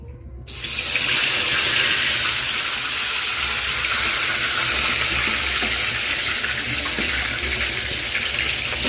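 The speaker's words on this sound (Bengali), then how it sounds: "তেলটা গরম হয়ে গেছে মাছগুলো দিব এখন কড়াইতে" Pieces of large kamla fish from a home pond hit hot oil in a wok. A loud sizzle bursts in abruptly and then settles into a steady, dense, close-up hiss that lasts to the end, with no voices.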